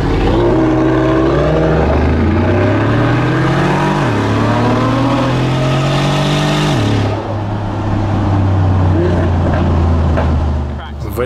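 Lamborghini Aventador SVJ with its V12 supercar engine on a palm-lined Beverly Hills road, a loud, steady roar with rising revs that dip and climb again, then settle into a lower, rougher drone close by.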